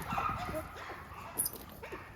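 An American Pit Bull Terrier, about 50 pounds, barks and whimpers faintly in an outdoor yard, the short sounds half-buried in a hissy background.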